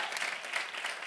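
A church congregation claps for its serving team, a steady wash of hands that stays fairly even and moderately distant throughout, with no voices rising above it.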